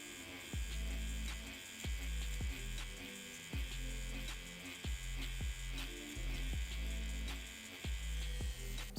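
An InkIn Nowta2 tattoo machine runs at 6.5 volts, giving a continuous, fairly quiet electric buzz with a steady rhythmic pulse that repeats several times over the stretch, alone without speech.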